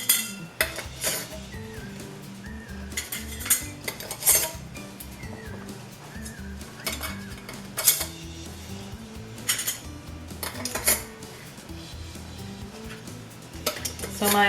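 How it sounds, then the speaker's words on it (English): Metal screw caps are twisted by hand onto canning jars over sterilized lids, producing frequent clinks, scrapes and rattles of metal on glass in uneven bursts, close and fairly loud, with occasional handling noises between. "now I'll put on my screw cap, just hand tight"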